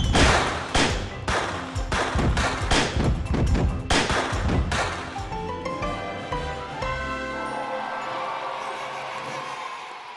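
A rapid burst of sharp cracks and thumps from fireworks at a party in a Thomas & Friends cartoon, fading into a ringing, shimmering tail.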